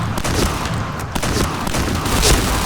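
Loud, dense bursts of gunshots in the shooter game Point Blank during a headshot-only match, the firing running steadily without pause across the whole stretch.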